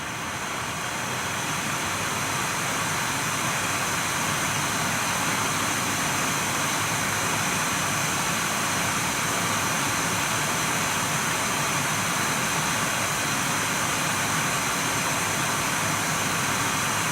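An Nvidia GTX 980 reference graphics card's blower fan runs flat out at 100% speed, a loud, steady, broadband whooshing roar close by that holds unchanged throughout, with no voices.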